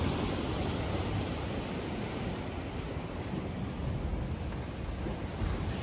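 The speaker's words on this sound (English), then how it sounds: "There's a blowhole. Ooh, I don't know if you can see that. You can hear them though." Ocean surf churning through a coastal blowhole, a steady loud roar of rushing water and spray with wind buffeting the microphone, continuous throughout with no voices.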